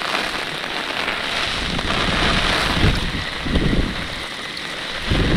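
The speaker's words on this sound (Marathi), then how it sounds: "पाऊस पण आलाय त्याच्यात." Rain patters onto surfaces while gusty wind buffets the microphone during night fishing from the water, a loud, steady wash with stronger swells of gust noise and no speech.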